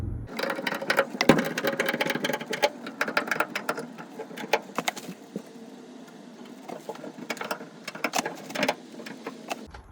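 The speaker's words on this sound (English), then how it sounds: "And then you want to ratchet it back evenly till it straightens out." A hand ratchet clicks in quick irregular bursts while tightening to straighten a truck bed bracket, sharp close ratcheting with short pauses between strokes and no talk.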